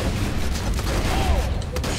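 Dense, continuous gunfire fills a co-op shootout in the video game Borderlands 2, rapid bursts blending into one loud, unbroken barrage.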